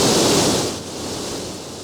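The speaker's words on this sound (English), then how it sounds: "That's a glitch in the game. Because there's no way in hell it's supposed to sound like that." Loud broadband hiss and crackle from an audio glitch in the Sega Saturn racing game Cyber Speedway, a steady static-like roar that dips slightly after the first moment and carries on alone without talk.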